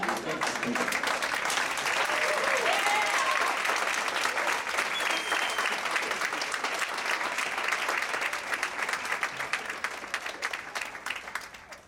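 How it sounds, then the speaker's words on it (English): Guests at a family reunion held at a Hyatt Hotel give the committee a long, loud round of applause, dense and continuous, with crowd voices mixed in, tapering slightly toward the end. "you'll be standing up applauding these people. So let's try it one more time."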